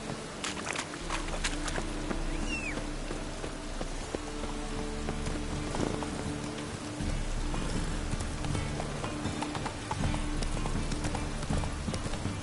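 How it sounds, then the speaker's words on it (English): Horse hooves clip-clop steadily in The Witcher 3 video game, a rhythmic series of moderate hoofbeats over a background patter resembling rain. "Whoa there, Roach. Come on, Roach"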